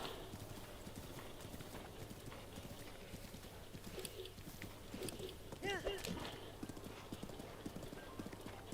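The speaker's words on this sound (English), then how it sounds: "summon my horse here" Horse hooves clip-clop steadily in Zelda: Breath of the Wild, Master Mode, as a summoned horse gallops up, with bird cooing and ambient game sounds alongside; a voice talks over part of it.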